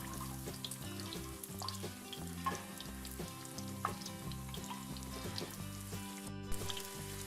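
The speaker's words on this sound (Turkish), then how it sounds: "Yumurtalar altın sarısı rengi olana kadar şöyle bir kızartacağız." Eggs sizzle and crackle steadily in hot oil, a continuous close frying hiss with occasional pops and light utensil clinks.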